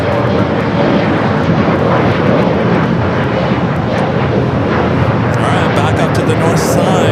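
A Lufthansa Boeing 747 on short final at LAX makes a loud, continuous engine roar that stays strong throughout, close by, with voices talking over it.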